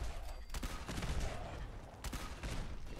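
The Two Shot Hitman's Broadsider cannon firing in Fallout 76, with a few booming blasts and crackling impacts spread across a few seconds amid game noise.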